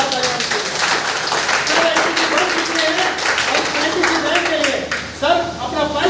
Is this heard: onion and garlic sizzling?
no